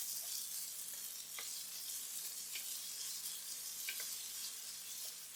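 Onions sizzling in a pan with ginger garlic paste, a soft continuous frying hiss punctuated by occasional faint clicks of stirring.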